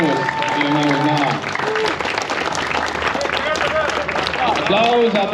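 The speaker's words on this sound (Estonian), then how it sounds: "Aplaus võib ikka kesta veel." Audience applausing at a drift event podium, a crowd clapping in a dense wash under loud announcer speech that runs over most of the stretch.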